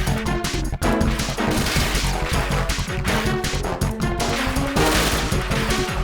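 Gunfire in the stealth action game Metal Gear Solid 2, a loud, relentless stream of rapid shots and crashing impacts that runs unbroken throughout, with no speech.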